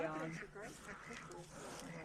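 Ducks quack among chickens on a closed-down golf course, several nasal calls scattered through the clip at close range, mixed with people talking nearby.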